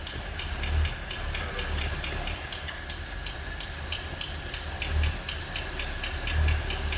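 An old Packard car engine running, a steady rough hum with a fast ticking tap riding on top and occasional low thumps, fairly close, no voices.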